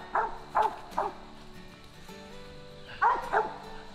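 A Mountain Cur dog barks outdoors near a creek bank: three evenly spaced barks, a pause, then two more, moderately close over steady background noise.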